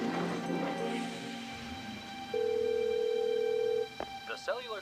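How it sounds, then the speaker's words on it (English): A telephone call ringing tone on a line, a single long steady electronic tone after a brief stretch of background sound and voices, followed by short tonal chirps. "Come on, answer the phone."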